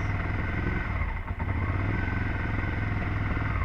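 A 2002 Suzuki SV650 motorcycle with a running fault runs on full choke, a steady close idling rumble with a brief dip as throttle is given.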